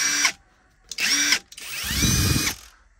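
A Hyper Tough 12V Gen II cordless impact wrench runs forward in three short bursts, close and loud, with a whining motor and hammering rattle building through the last longer run.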